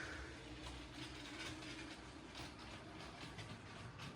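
A LEGO logging train runs along its track, giving a quiet, steady mechanical rolling hum with faint clicks from the wheels and rods, with no one speaking.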